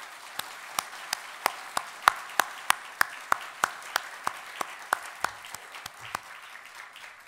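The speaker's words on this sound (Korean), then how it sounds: "하나님께 영광의 박수를 올려드립니다." Steady rhythmic clapping from a church congregation, about three claps per second, sharp and evenly spaced like a group clapping in unison, carrying on for several seconds.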